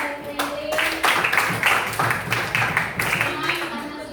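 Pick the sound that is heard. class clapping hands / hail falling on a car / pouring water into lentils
class clapping hands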